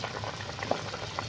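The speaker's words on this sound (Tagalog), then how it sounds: "Oh, kumukulo na siya." Tinola soup with cabbage and chayote boiling in a pot, giving a steady soft bubbling with a few small pops, close and alone.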